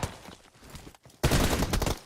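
Shotgun battle in PUBG Mobile during an esports tournament final: a quieter stretch of scattered shots, then a sudden dense burst of loud overlapping gunfire for the last second.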